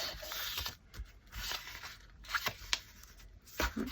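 A junk journal paper page is trimmed in quiet, irregular cuts and rustles, with soft scraping and crisp snips spaced across a few seconds, close and faint.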